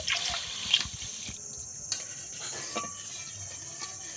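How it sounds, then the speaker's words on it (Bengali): A little water poured into a wok while making nolen gur rosogolla, heard as faint, close trickling and dripping with a few light splashes, no voices. "সামান্য পরিমাণে অল্প একটু জল দেব তাকে ঢেলে নেব কড়ার মধ্যে"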